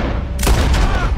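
A single sharp gunshot cracks out in Red Dead Redemption 2, a loud close bang with a brief echoing tail over ambient game noise.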